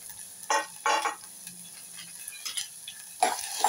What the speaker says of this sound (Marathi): कांदो हो तातून घालता आनी तळसून घेता हे सगळें तळसून घेता